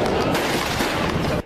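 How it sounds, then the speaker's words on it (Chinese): Fireworks set off on the ground in front of a shop as a campaign motorcade passes through the streets of Tainan, heard as a dense, continuous barrage of loud cracking bursts that cuts off abruptly at the end. "店家前面地上烟火狂炸"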